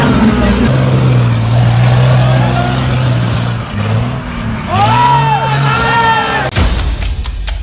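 A truck with a supercharged Cummins 5.9 diesel runs loud and close at an off-road 4x4 event, its rumble mixed with crowd noise and a sharp air-brake-like hiss near the end.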